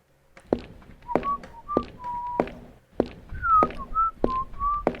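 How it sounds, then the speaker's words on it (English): A melodic whistled tune with sustained notes, punctuated by sharp taps or thuds at irregular intervals, fairly close and clear. "Whistling."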